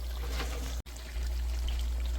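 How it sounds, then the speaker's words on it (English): Water poured into a pot for kazan kebab, a steady close splashing pour with a brief cut partway through before the stream continues, evenly loud and free of any voice. "I'll put water on top."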